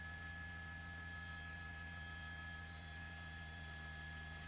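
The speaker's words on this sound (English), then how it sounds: "That ugly helicopter." Helicopter passing overhead during a firefighter's funeral procession in Long Beach, a steady droning rotor hum with sustained engine tones, distant and fairly faint, heard alone without voices.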